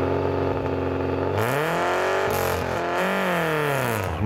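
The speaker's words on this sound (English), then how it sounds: "That's what that Lexus sounds like at night." A Lexus rally car at night on a rally stage near Ermelo, its engine roaring loudly as it approaches and passes, revs rising and falling through gear changes, with no talk over it.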